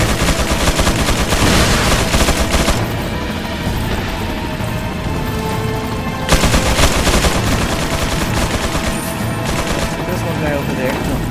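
Dense, loud gunfire from a Resident Evil 4 firefight on Professional difficulty, rapid overlapping shots and impacts running throughout, with a player occasionally talking over the action.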